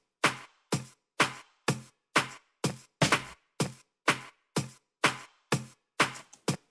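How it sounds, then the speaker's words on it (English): Two clap drum samples layered and triggered together, repeating in a steady rhythm of about a dozen punchy hits, each a thick, bright snap with a short decay, close and alone with no talking. "But when I play them together,"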